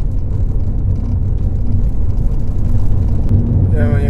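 A Volvo V40 Momentum drives over a bumpy road, with a loud, steady low rumble of road and engine noise heard from inside the cabin.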